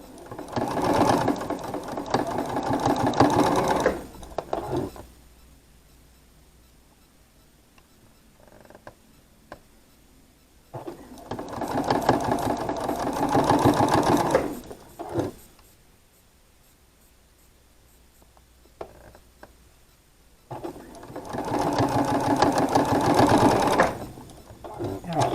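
A domestic sewing machine stitches pairs of quilt blocks together in three long, steady runs of rapid mechanical whirring, each about four seconds long, with quiet pauses between them.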